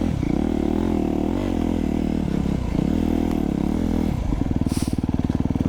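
A 2025 Honda CRF250R Works Edition dirt bike ridden on single track in snow, its engine loud and close, rising and falling with throttle and ending in a sharp, pulsing rev.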